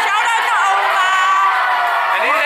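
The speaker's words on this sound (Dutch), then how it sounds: "Is aan het juichen voor je oma" A lively crowd on a Dutch vlogger's tour cheers and whoops loudly and steadily for a grandmother, the shouting voices dense and continuous with no break.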